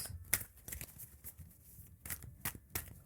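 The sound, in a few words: shuffling tarot cards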